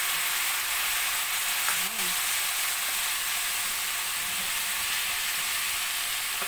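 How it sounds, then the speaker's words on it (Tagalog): Squash sautéing in a pan for ginisang kalabasa as soy sauce goes in, giving a steady close-up frying sizzle and hiss throughout, with a brief stir or clink partway and a faint voice underneath. "Lagyan natin ng toyo."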